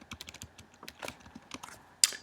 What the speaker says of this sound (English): So I'm going to type Nano